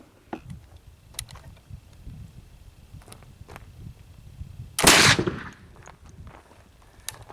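A single loud blast from a black powder flintlock gun, primed with 4F powder in the flash pan, rings out over faint outdoor background noise, with a few small clicks and knocks around it.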